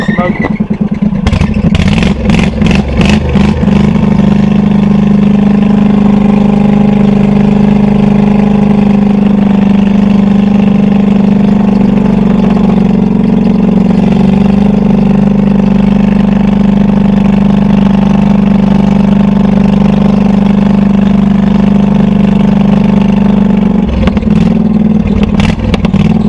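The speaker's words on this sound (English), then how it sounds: "Got a belt squealing." A golf cart engine with a slipping, smoking belt runs loudly and steadily at close range, with a strong droning tone and some clatter throughout. Brief rattling bursts come near the start and the end.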